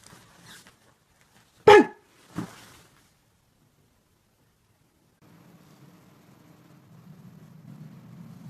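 A dog gives a single loud, sharp bark followed by a fainter second yelp, then quiet before a low rumbling background noise rises near the end.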